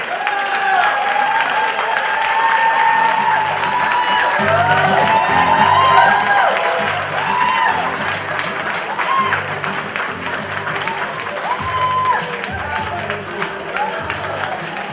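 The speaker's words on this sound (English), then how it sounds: "let's give everyone a round of applause" Audience applause and cheering at an NYPD honoree ceremony and anniversary gala, a dense, steady roar of clapping with whoops filling the whole stretch while an announcer's voice carries over it.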